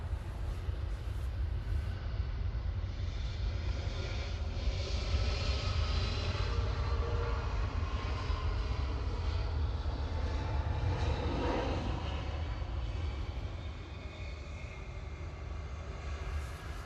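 Lufthansa airliner arriving at Munich airport, a sustained heavy jet roar with shifting engine whine that swells slightly mid-pass and eases toward the end, no voices.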